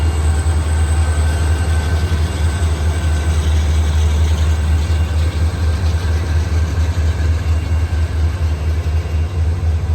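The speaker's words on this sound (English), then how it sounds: "Here he is leading Job 3 with another SD40-2, slowly picking up speed after leaving the steel mill." An SD40-2 diesel locomotive leads a freight train away from a steel mill, slowly picking up speed, with a steady deep engine rumble and rolling rail noise sustained throughout at constant loudness, with no voices.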